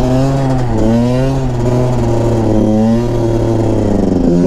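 A Yamaha YZ 125 two-stroke motorcycle fitted with an Athena 144 big-bore kit revs loudly and close, its buzzy engine note rising and falling in several quick waves with no talking.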